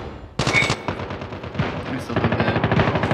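M16 fire in the mobile game Call of Duty Mobile: loud, rapid bursts of close gunshots in quick succession, rattling almost continuously through the clip.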